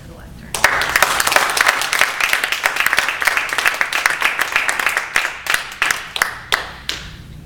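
Audience applause swells for a speaker stepping up to the lectern at a Toastmasters club meeting, dense steady clapping that thins into scattered claps before fading out.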